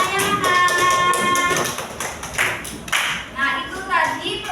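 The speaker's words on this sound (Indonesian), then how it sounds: "Beri tepuk tangan untuk teman kalian yang sudah berani. Ayo tepuk tangannya mana?" Children clapping in an elementary classroom, a few bursts of taps and claps mixed with high young voices and chatter throughout.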